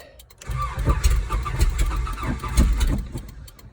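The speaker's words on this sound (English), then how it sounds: "Sometimes you got to give her a good amount of gas to get it going." A 1987 Toyota pickup with its catalytic converter removed cranks and catches after an ignition replacement, then rumbles loudly at close range with uneven surges of throttle over about three seconds, a brief mechanical rattle before the engine fires.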